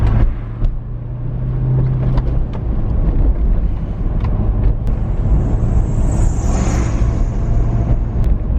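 A K30 pickup truck with a new cold air intake and freshly overhauled suspension and steering cruises along the road, steady loud engine drone and road rumble heard from inside the cab, with wind noise and no talking.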